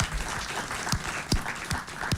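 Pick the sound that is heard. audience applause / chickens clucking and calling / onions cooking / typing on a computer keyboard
audience applause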